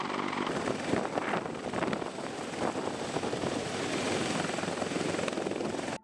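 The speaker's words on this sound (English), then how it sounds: "The CH-53E is a heavy lift helicopter" A CH-53E heavy-lift military helicopter roars steadily, its dense rotor thump and turbine whine filling the scene, loud and close with some wind buffeting.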